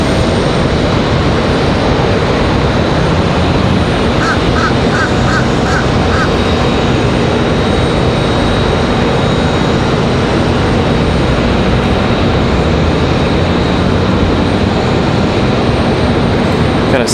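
A Boeing 737 Max 9 airliner at Raleigh-Durham airport gives a loud, steady broadband jet roar that fills the whole stretch, with a few faint bird caws briefly over it.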